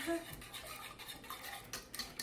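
Lemon curd mixture being whisked in a bowl, a brief run of soft rhythmic scraping and tapping strokes close by, with no speech.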